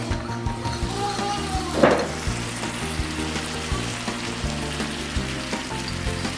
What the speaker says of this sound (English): we'll bring it to boil and cook for just like 1 minute